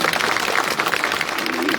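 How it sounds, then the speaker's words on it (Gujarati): An audience at a political speech by Rajubhai Karpada claps in a dense, steady burst of applause throughout, loud and fairly close, with a voice mixed in beneath the clapping. "એના માટે જોરદાર તાળી આખા પરિવારમાં"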